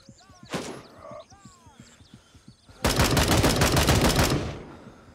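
Sustained rapid automatic gunfire in the military shooter Gray Zone Warfare, a loud dense burst lasting about a second and a half after scattered earlier shots and faint game sounds.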